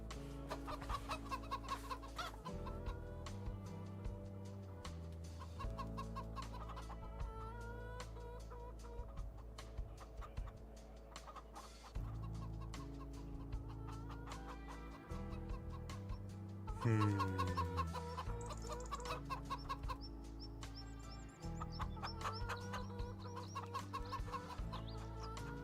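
Chickens cluck repeatedly in a Farming Simulator 25 farm yard, with many birds overlapping in a busy, steady chorus, close and fairly loud over a continuous game background.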